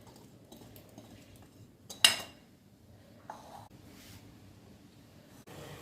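Cooked millet breakfast is moved onto a plate in a home kitchen, soft scraping and light clinks of a utensil against a dish with one sharper clatter, faint and close.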